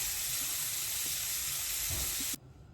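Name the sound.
blackened mahi mahi fish cooking in a pan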